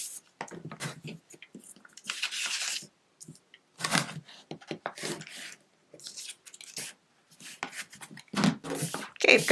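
Scissors snip and crunch through paper while quilt block templates are cut out, in irregular close-up bursts separated by short silences.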